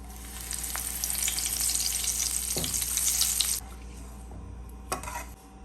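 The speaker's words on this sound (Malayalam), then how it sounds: "ഇനി അതിലേക്ക് ഒരു കുറച്ച് കറിവേപ്പില നമുക്കൊന്നിട്ട് മൂപ്പിച്ചെടുക്കാം" Curry leaves crackle and sizzle in hot oil with fried chopped samosa sheets, a steady broadband frying hiss for most of the clip, then a quieter bubbling with a few sharp spits and pops near the end.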